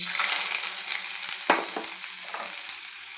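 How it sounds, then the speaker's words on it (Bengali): Chopped ginger, garlic and green chilli sizzle in hot oil in a wok, a loud steady hiss of frying with a brief stirring scrape midway. "রসুন কুচি, কাঁচা লঙ্কা কুচি, খুব বেশি ভাজবো না, হালকা করে ভেজে নেব"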